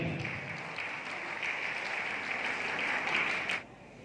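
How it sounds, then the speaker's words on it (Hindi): An audience claps to welcome a guest at a Vivekananda Jayanti event in Sant Kabir Nagar, with sustained, dense applause that carries on for several seconds before it drops away near the end. "हम सभी लोग ताली बजाकर उसका स्वागत करते हैं।"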